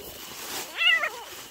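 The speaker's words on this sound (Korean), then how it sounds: "개구리가 뭐한테 먹히는 소리래요" A frog gives a single sharp, high, wailing cry lasting under half a second while a predator attacks it. The cry is fairly clear against a quiet outdoor background.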